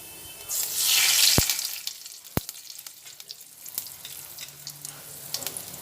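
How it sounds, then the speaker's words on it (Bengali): Cumin seeds and a bay leaf frying in hot oil for a vegetarian yam and potato curry, a burst of loud sizzling early on, then two sharp utensil knocks and quieter crackling with light clatter. "সাদা জিরেটা গরম হচ্ছে ভাজা হচ্ছে সেই সময়ের মধ্যে একটা তেজপাতা দিলাম"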